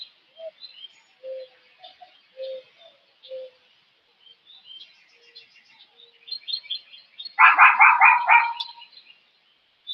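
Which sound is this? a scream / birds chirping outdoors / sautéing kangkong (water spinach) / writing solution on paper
birds chirping outdoors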